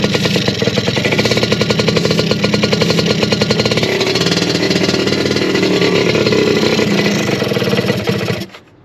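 A two-stroke Suzuki motorcycle that sat for two years runs after a kick start, a loud, close, rapid popping engine beat holding steady before cutting out abruptly at the end.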